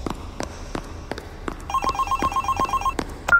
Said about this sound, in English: Ah, the phone!